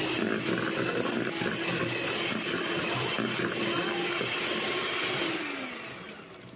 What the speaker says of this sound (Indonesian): lalu dimix dengan kecepatan paling rendah sebentar asal tercampur rata